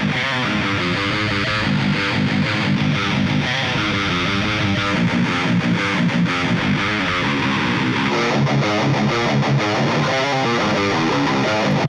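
Electric guitar played through the JST Misha Mansoor amp plugin on its Pine PV setting, giving a dense, heavily distorted tone with busy riffing that runs loud and steady throughout, with no talking.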